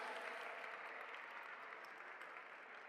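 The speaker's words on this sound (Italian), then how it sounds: "facciamoci un bel applauso anche perché scalda il clima" An audience at an Italian regional day of remembrance applauds in a steady, even wash of clapping, fairly faint, with no voices over it.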